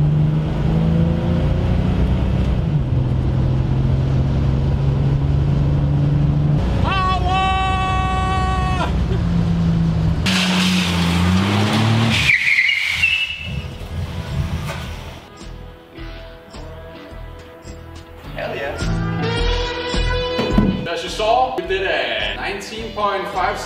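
Stock 1970 Dodge Challenger revving and accelerating hard, engine tone climbing through rising gear sweeps, then a brief drop and a renewed roaring run near the end, with people talking over parts of it.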